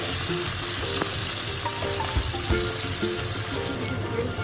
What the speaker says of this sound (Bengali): চিংড়ি মাছ বেশি ভাজবেন না, অল্প করে, আমি অল্প করেই ভাজবো, বেশি ভাজবো না